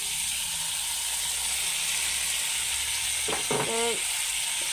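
Fish frying with ridge gourd in a pan gives a steady, fairly quiet sizzle throughout, with a short burst of clattering stirs near the end.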